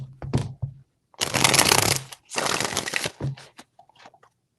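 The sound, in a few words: shuffling tarot cards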